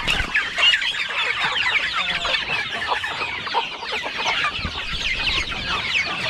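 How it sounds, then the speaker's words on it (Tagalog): Farm chickens cluck and chatter continuously, a busy flock close by with overlapping calls and no talk. "Yan po yung mga alaga natin manok"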